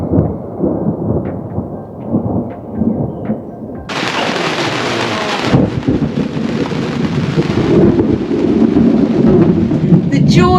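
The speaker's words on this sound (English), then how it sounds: "It's raining. And there was the odd thunderstorm." A summer thunderstorm with rain, heard from a sailing boat off North Queensland, Australia: rumbling thunder rolls under steady rain that suddenly intensifies into a loud hiss partway through, then settles into a heavy downpour.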